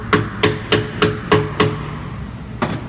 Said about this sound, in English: hammer this on